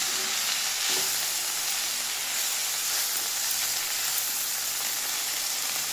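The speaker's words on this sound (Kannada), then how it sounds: "ಇದನ್ನು ಫ್ರೈ ಮಾಡ್ತೀನಿ" Onion, coriander and garlic frying in oil in a pan, a constant close sizzle with bright hiss throughout and an occasional faint stir, no voices.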